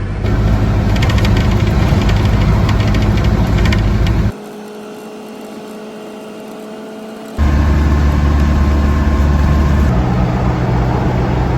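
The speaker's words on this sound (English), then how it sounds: "About a 7-hour drive back to the far south coast with a rattly window." A car drives a long highway trip with a rattly window, giving a steady loud engine and road roar. Midway the roar drops to a quieter, smoother hum for a few seconds before the full noise returns.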